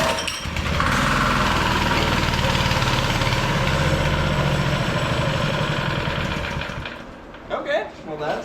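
A minibike's small engine fires up and settles into a steady, buzzing idle, running loud and close for several seconds before dying down, followed by faint brief voices.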